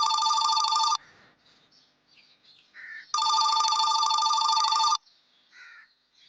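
A telephone rings late at night with two long, loud, close trilling rings separated by a short pause, and a few faint sounds in between.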